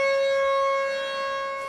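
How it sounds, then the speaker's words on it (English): A loud, sustained synagogue siren in Brooklyn signaling the start of Shabbat on a Friday evening wails with a steady tone, slowly fading slightly in level, with no voices. "a siren from the synagogue meant to signal the beginning of Shabbat each Friday evening."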